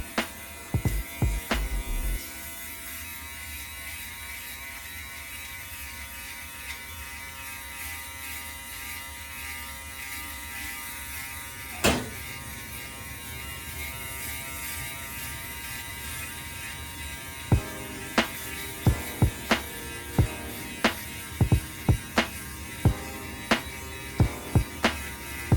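An Aberlite electric foil shaver hums steadily at close range while it is run over a shaved head, with sharp clicks and ratcheting knocks scattered through the long, otherwise even buzz and no speech.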